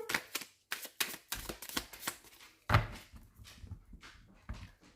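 Oracle cards being shuffled and cut by hand for a tarot-style reading, a rapid series of close, crisp riffles and slaps with short pauses between, one sharper knock near the middle, no talking.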